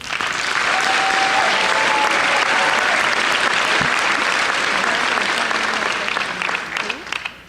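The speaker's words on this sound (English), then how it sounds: "You certainly deserve a round of applause." Applause from a large audience at a college commencement ceremony, a dense, steady roar of clapping that runs nearly the whole time, with a few faint cheers mixed in, before tapering at the end.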